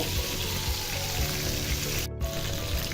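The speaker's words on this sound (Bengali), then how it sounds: "তো এইভাবে উল্টে পাল্টেও বাকি সাইড আমি ভেজে দিব।" Bata fish frying in oil in a pan, a steady dense sizzle running throughout with a brief dip near the end, no voices.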